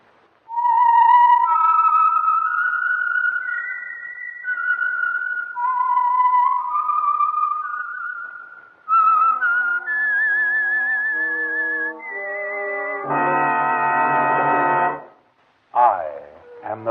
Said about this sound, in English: the signal to listen for is this whistle